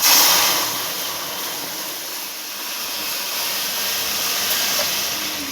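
Milk poured into hot caramel for Bengali semai payesh, giving a loud hissing sizzle that bursts at first and then settles into a steady steamy hiss, with no talking.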